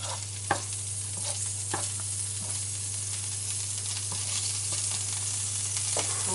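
Butter sizzles steadily in a frying pan while being stirred, a constant close frying hiss broken by occasional light scrapes and taps of the utensil.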